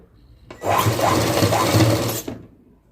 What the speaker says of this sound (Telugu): షోలర్స్ మీద ఒక హాఫ్ ఇంచ్ మీద కుట్లు అయితే వేసేసుకుందాము